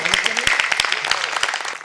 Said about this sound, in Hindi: तो आइए पंकज टूट पड़े का बहुत जोरदार स्वागत करते हैं, जोरदार तालियों से पंकज का